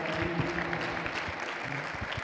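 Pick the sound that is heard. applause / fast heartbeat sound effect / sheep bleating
applause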